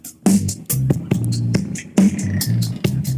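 A punchy drum pattern of kicks and snares run through a Mu-Tron Bi-Phase phaser, with a swirling, sweeping tonal wash over the hits, loud and close.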